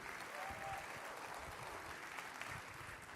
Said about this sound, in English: I do want to give another massive round of applause to BTC Mag and David Bailey for putting on a